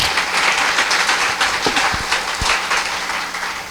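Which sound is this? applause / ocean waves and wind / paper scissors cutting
applause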